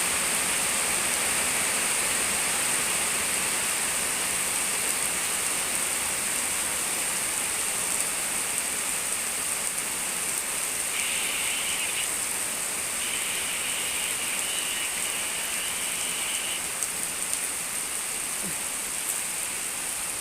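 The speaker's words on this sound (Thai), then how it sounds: "ฝนตกเนาะ" Heavy rain falls in a steady, even roar like rushing water, loud and unbroken for the full length, with a faint higher tone briefly sounding over it partway through.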